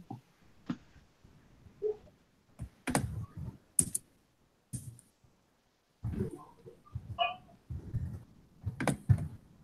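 Keys tapped on a computer keyboard in irregular bursts of clicks with short pauses between, close and fairly quiet, with no talking.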